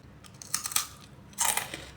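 Someone bites into crunchy dehydrated peach candy, two sharp crisp crunches about a second apart, each a short burst of brittle cracking heard close and alone.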